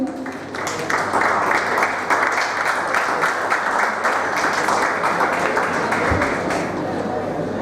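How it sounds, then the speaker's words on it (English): An audience at a Re-Ignite 2017 evening event gives a big round of applause for the winner of a game. Steady, fairly loud clapping carries through the whole stretch and tapers slightly at the end. "The big round of applause for him, please"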